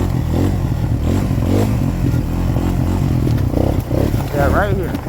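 A Suzuki LTZ 250 ATV engine drones steadily close by while being ridden on woodland trails at night, its low rumble continuous throughout with brief revs, and a voice talks over it.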